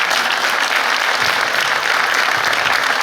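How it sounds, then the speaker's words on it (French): Steady, dense applause from a large audience at a 2025 New Year's wishes ceremony for the townspeople, continuous and even throughout with no talk over it. "en plus les gens vous applaudissent"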